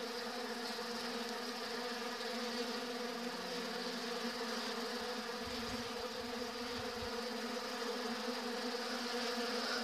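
Honey bees of Carpathian or Buckfast stock make a dense, steady buzz that holds unchanged and loud through the whole stretch, with no voices.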